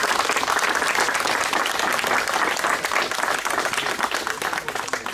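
Steady, dense applause from a festival crowd in Ásotthalom, Hungary, greeting a group of about thirty cyclists who rode in from Kanizsa; the clapping is loud and sustained throughout with no pauses.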